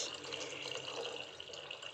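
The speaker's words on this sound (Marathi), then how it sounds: "मी आता थोडंसं पाणी देखील ॲड करून घेतो" Water pours into a pressure cooker holding spicy okra dal fry, a steady close rush and splash of liquid that runs unbroken for the whole stretch.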